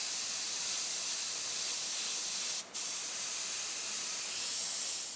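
Steady, close airbrush hiss sprays paint through a stencil for the lower half of an eye, continuous and loud with a single momentary break partway through.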